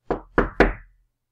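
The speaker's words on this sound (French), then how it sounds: "ça toque à nouveau à la porte." Three firm knocks on a door, close and loud, with the last one heaviest, then silence.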